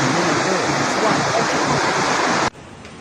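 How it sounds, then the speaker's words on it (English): The Swat River in high flood roars as a dense, loud rush of water that cuts off abruptly near the end. "Water has inundated the city."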